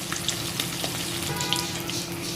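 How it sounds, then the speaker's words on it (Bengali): Flipped hilsa fish keeps frying in a pan, a steady close hiss of hot oil broken by frequent small crackles and pops, with no one speaking. "উল্টে দিয়েছি মাছ এখন ভাজবো"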